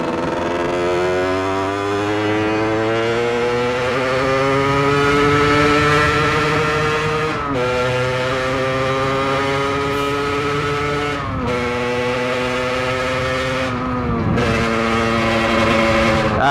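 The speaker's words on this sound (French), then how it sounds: "Ah ça fait du bien de rouler un peu en moto" A 50cc supermoto motorcycle engine roars loudly and continuously, its pitch climbing through revs with brief dips at gear changes, no voices over it.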